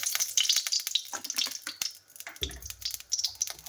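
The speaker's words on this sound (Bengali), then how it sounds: "প্রথমে একটু পাঁচফোড়ন দিলাম," Panch phoron spices crackling and sizzling in hot oil in a kadai, a bright, hissing spatter with scattered pops and a heavier burst partway through; no speech.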